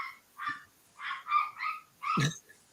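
A dog barks and yips in five or six short, sharp bursts spaced about half a second apart, close by and fairly loud, with no talking.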